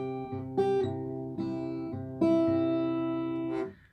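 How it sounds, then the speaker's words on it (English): A guitar riff from a song, played at tempo as a series of sustained, ringing phrases with repeated low notes and brighter melodic notes, close and clear with no talking. "you can hear the actual flow of the riff, which will sound like this."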